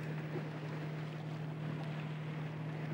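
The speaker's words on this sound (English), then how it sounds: "And we are sailing in company today." A sailboat under way at sea in company with another boat, heard as a steady, even wash of water and wind noise on the microphone with a low constant hum beneath, continuous for the whole stretch with no voices.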